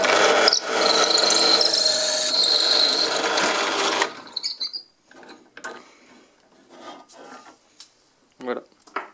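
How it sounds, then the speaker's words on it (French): A drill press bores into a wooden pen blank, loud and continuous for about four seconds before cutting off, followed by quieter clicks, knocks and handling sounds of the workpiece being adjusted. "ma perceuse à colonne ne me permet pas de le faire en une fois"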